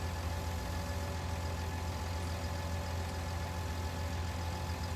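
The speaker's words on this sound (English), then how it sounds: "Hardy looks really nice with a Case tractor." A Case tractor engine in Farming Simulator 19 drones at a steady low rumble, idling evenly and continuously at moderate volume with no talk over it.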